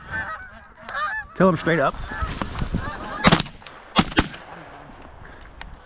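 Geese honk loudly over a freshly cut field during a goose hunt, several calls overlapping, broken by sharp shotgun blasts while hunters talk nearby.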